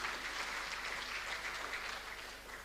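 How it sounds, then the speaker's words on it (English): Steady, even applause from an audience at a hairdressing certificate launch event at a college, a continuous wash of clapping that eases slightly toward the end, moderately distant. "Let's give Ms. Motla another big round of applause."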